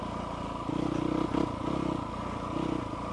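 Motorcycle climbing a hill through pine forest in the Arizona backcountry near Punkin Center and Tonto, its engine droning steadily at close range with pulsing surges as the throttle rises and falls.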